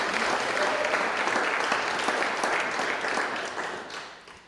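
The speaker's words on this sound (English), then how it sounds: "So please give yourselves a very large round of applause." A church congregation at a 9am liturgical service gives sustained, dense applause that stays loud for several seconds and then fades toward the end.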